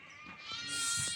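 Breeding female lambs give a short, fairly faint bleat, a single wavering cry of about a second from livestock nearby.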